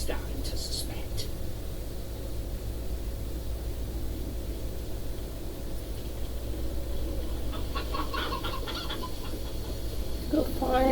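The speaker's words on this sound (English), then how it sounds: "Go find those last 3 chickens and get made fun of." Chickens cluck faintly in the Fable 3 video game against a steady hiss of background noise, with a few brief bursts of clucking scattered through and soft whispery voices underneath.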